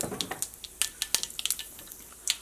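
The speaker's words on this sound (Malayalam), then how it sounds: "കടുക് ഫസ്റ്റ് ഒന്ന് പൊട്ടിക്കുക." Mustard seeds pop and splutter in hot coconut oil in a pan, a close run of sharp, irregular crackles and spits over a faint sizzle, with no talking.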